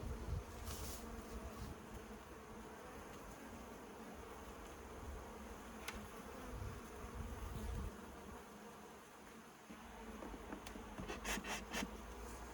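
Honeybees buzz steadily around small Apidea mating nuclei at a hive yard, a dense continuous drone with occasional louder passes of individual bees close by, no talking.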